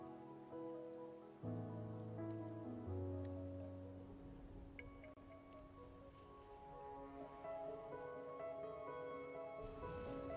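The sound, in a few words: rain falling in Wuthering Waves video game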